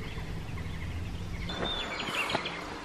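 Birds call in a quiet forest, a gobbling, turkey-like bird call rising briefly over a soft, steady outdoor background.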